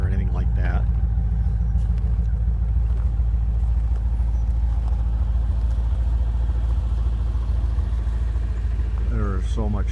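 A 1991 C4 Corvette with about 120,000 miles on the engine idles steadily nearby in deep snow, its exhaust giving a constant low rumble throughout, with brief voices at the start and end.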